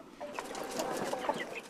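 Free-range village chickens cluck in short, overlapping bursts at close range in a mountain tea village in Yunnan, with no talk over them.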